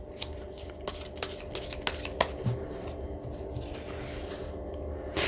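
Tarot cards shuffled and drawn by hand at close range, a steady soft rustle of sliding cards broken by a few sharp flicks and taps, with no talking.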